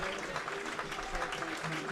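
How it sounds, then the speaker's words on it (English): Warm applause from thousands of fans at New Road Stadium during a Worcestershire Rapids versus Yorkshire T20 cricket match, a steady, distant wash of clapping lasting throughout. "he gets a very warm round of applause"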